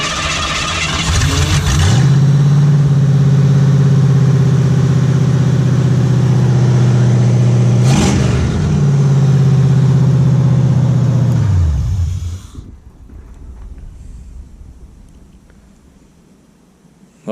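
A 1959 Ford Ranch Wagon engine cranks briefly, catches and runs with a loud steady rumble, with a short rev midway, then shuts off, leaving a fading low hum, close and with no talk.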